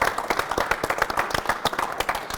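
At a fight event, an audience breaks into steady applause, with dense, fairly close clapping that keeps going without a break.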